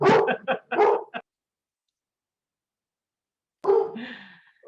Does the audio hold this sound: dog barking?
yes